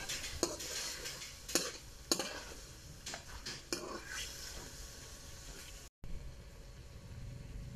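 Tomato paste being stirred into chicken kaldereta with coconut milk in a pan, with a few sharp spoon scrapes and clinks against the metal over a quiet low sizzle, close by.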